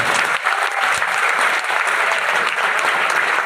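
Steady applause from a sizable audience at a Hindi poetry recital, loud and continuous throughout, with no voices rising above it.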